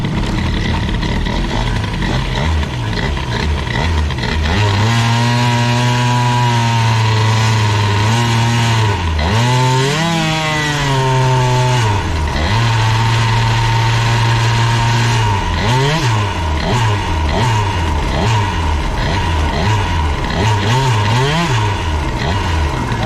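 MBK Booster scooter with an Airsal T6 65 kit, started without the choke and running close and loud, idling then revving up and down in several sweeps over a steady drone, with no talk.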